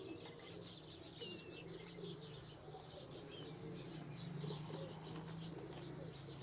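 Pigeons coo at a distance in a loft or keeping yard, giving low, soft repeated coos with occasional light chirps and faint wing flutters under a steady background murmur.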